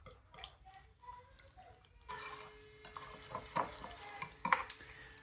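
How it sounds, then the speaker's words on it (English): A whisk clinks against a bowl, mixing a dressing of lemon juice, vinegar, garlic and black pepper, with faint close scraping and tapping that grows busier and louder toward the end. "I'm gonna grab a whisk."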